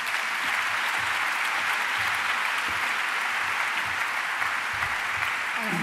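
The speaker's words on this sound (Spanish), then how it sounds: "Un aplauso para Clara y para Enrique." Audience at a science outreach event giving a dense, sustained round of applause for two speakers, many hands clapping at a steady, fairly loud level with no speech over it.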